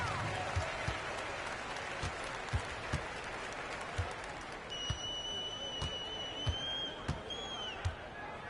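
Basketball arena crowd applauding and cheering after a Dallas win, a broad steady roar with scattered whistles, punctuated by intermittent thuds, with an announcer's voice over it.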